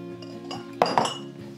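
Glass canning jars set out for canning turkey meat, two bright clinks close together over a low steady hum, close and alone without talk.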